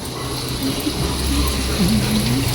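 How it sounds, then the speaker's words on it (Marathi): Water runs from a hose or tap onto a lawn with a steady, close rushing hiss that holds at an even level. "अरे पाणी चाललंय"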